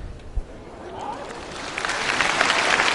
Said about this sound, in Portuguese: Ela fez uma entrada simples e o público aplaudiu